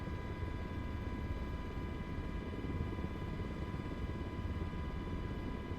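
An MH-60 Blackhawk helicopter in Microsoft Flight Simulator 2024 hovers with a steady, dense rotor and turbine drone, heard close and continuous with a constant high whine.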